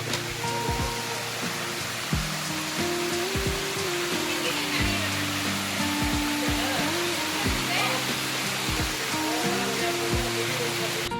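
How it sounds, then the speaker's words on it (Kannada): A small waterfall in Karnataka Garden in Ooty pours with a constant broadband rush of falling water, steady and close, while people talk in the background throughout. "ಚಿಕ್ಕದಾಗಿ ಒಂದು ಫಾಲ್ಸ್."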